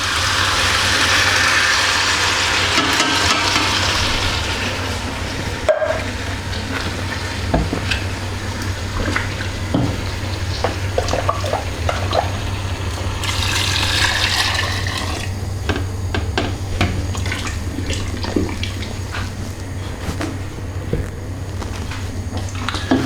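Stock sloshing and swirling inside an emptied tomato tin and pouring into a soup pot, a continuous wet splashing rush with occasional metallic knocks, steady and close.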